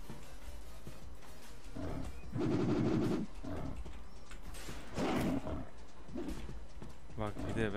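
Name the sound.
gunfire in a video game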